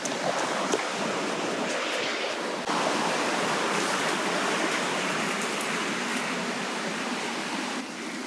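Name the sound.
Gumsuda waterfall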